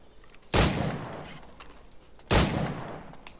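Two loud, sharp gunshots ring out about two seconds apart in the pirate game Assassin's Creed IV Black Flag, each ending in a short decaying tail over quiet ambience.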